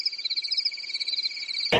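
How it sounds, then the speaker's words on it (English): A cricket chirping sound effect gives a steady, rapidly pulsing high chirp that carries alone and stops abruptly on a loud click. "This is where I put the crickets."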